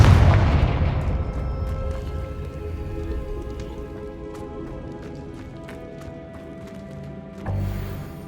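A Confringo fire spell explodes in Hogwarts Legacy. A loud boom opens and then decays into a lingering rumble with scattered crackles, and a second, softer thud comes near the end.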